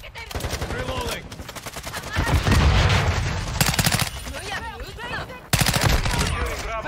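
Automatic fire from a Honey Badger in a first-person shooter game rattles in dense, loud bursts with short gaps, mixed with other game effects and occasional voices.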